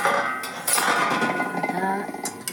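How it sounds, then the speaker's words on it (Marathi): A metal lid is lifted off a cooking pan of stale bhakri pieces, giving ringing clinks and scraping metallic contact, with a couple of lighter taps at the end. "बस आता हे झाकण काढायचं."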